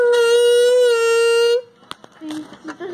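A Coca-Cola can used to imitate a large race car engine gives a loud, steady buzzing drone for about a second and a half, then stops, leaving quieter scattered sounds and a few faint tones.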